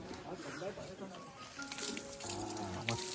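Running water splashes steadily from a tap as someone washes hands and feet after cleaning at a village temple, with voices talking over the flow nearby.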